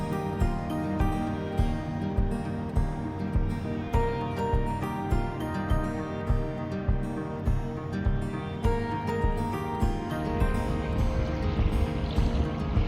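A sailboat's motor runs underway from Bodega Bay toward Napa Valley, chugging in a steady rhythmic thump under wind and water, with a fuller, rougher stretch near the end.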